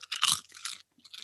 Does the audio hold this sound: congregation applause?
no